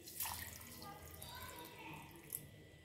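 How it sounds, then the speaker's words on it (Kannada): Water pours into mango juice in a kitchen, a steady trickling stream with a couple of brief splashy drips, close and fairly soft throughout. "ಇವಾಗ ಒಂದು ಗ್ಲಾಸ್ ಅಷ್ಟು ನೀರನ್ನು ನಾನು ಹಾಕೊಂತಾ ಇದ್ದೀನಿ"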